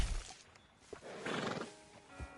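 A horse in Red Dead Redemption II neighs at a stable, a close whinny rising in the middle of the clip, with a few soft hoof thuds around it and no talk.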